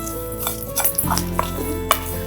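Dried turkey berries (sundakkai) are dry-roasted in a pan, with a spoon scraping and knocking against the metal in a few sharp clicks and a soft rustle of the berries, close and fairly quiet.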